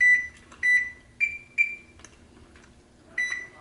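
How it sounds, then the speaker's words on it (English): A kitchen oven timer beeps repeatedly while red bean buns and sourdough discard crackers bake, a clear high electronic tone sounding in short, fairly evenly spaced pulses against a quiet room. "Okay, second timer going off"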